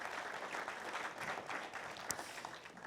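An audience claps for a guest at an event about Nikola Tesla, a dense, steady patter of many hands that is fairly quiet and continuous throughout.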